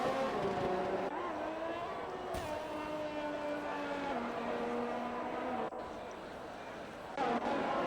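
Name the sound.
F1 race car engine on main straight, F1 video game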